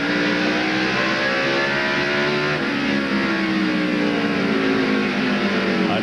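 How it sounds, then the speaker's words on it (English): A 1998 NASCAR Winston Cup race car at Martinsville Speedway accelerates down the straightaway, its engine a loud, sustained roar with rising pitch sweeps as the gears wind up, with no voices over it. "Just how quickly that engine accelerates down the straightaway."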